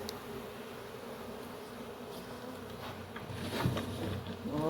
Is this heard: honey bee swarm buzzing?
yes